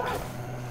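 A dog attacking in the video game Far Cry 5, a brief growling, snarling burst up close that fades into a steady low hum, with no talk over it.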